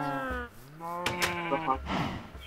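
A Minecraft sheep bleats several times in quick succession, wavering and close, with a brief burst of noise in the middle and low rustling underneath.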